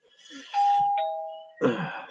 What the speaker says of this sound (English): Sorry, the doorbell keeps going.